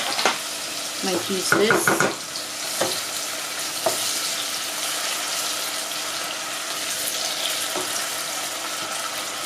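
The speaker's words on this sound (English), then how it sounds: "In there goes the finely chopped red onion." Finely chopped red onion hisses and sizzles in hot oil in a pan, with a few sharp clatters of stirring near the start and a steady fry running underneath. A voice speaks briefly.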